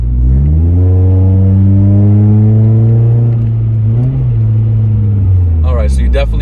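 A 2011-or-later Scion tC revs hard on a sport throttle setting with a HIKEit X9 throttle controller, its engine note climbing steadily in a loud, sustained drone before easing off, with a brief voice near the end.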